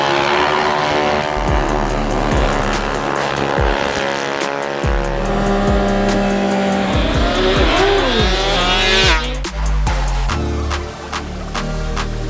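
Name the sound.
scooter drag racing at a drag strip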